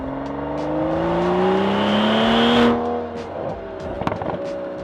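Aston Martin DBS 770 Ultimate with its 5.2-liter twin-turbo V12, revving up in a rising, loud engine howl that cuts off sharply and settles into a lower idle burble with a few light clicks.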